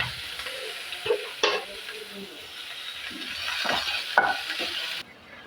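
Green chili, curry leaves and onion fry in a pan with a steady close sizzle, broken by a few sharp stirring scrapes and clinks, before the sound cuts off abruptly near the end.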